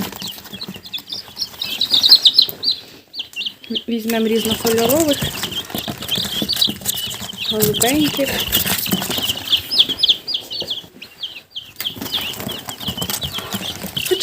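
Young chicks and guinea fowl keets, gathered to be given to a broody hen, cheep in a steady chorus of thin, high peeps, close and continuous, with someone talking over them at times.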